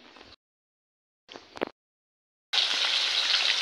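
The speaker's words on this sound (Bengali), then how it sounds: "বন্ধুরা দেখো এই যে এদিকে মাছ ভাজাটা বসিয়ে দিয়েছি। তো মাছ ভাজাটা হচ্ছে এদিকে।" Fish sizzles in hot oil in a home kitchen pan, two brief bursts of frying noise followed by a sustained loud, close sizzle with no talking.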